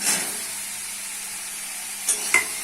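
Potatoes frying in a pan with ground chili, cumin, coriander and salt give a steady, close sizzle, broken near the end by a couple of brief stirring clinks.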